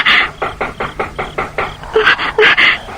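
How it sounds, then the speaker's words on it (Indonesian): Knuckles rap on a bedroom window at night in a radio drama, a steady series of about a dozen firm knocks, grouping into louder, quicker raps toward the end. "Siapa yang mengetuk jendela kamarku?"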